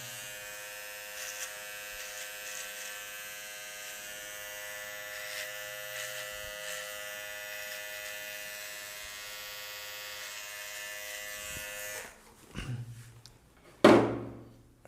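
An electric finishing trimmer buzzes steadily for about twelve seconds as it cuts hair in a fade haircut, then cuts off, followed by a few soft handling thuds and a sharp knock.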